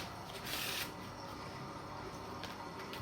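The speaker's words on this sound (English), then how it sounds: "I'm being very scruffy with my shuffling" A full deck of playing cards, jokers removed, being shuffled by hand for a clock patience game, a quiet, steady papery riffling with a brief louder burst near the start.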